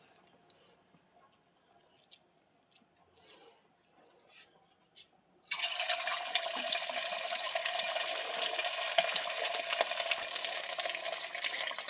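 Chicken pakora batter dropped into hot oil sets off a sudden loud, steady sizzling hiss partway through that continues to the end, after quiet kitchen clatter and soft handling noises.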